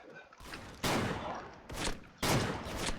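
Zastava M76 rifle fire in a shooter game comes as two loud, close bursts separated by short pauses, with a voice speaking between and under them.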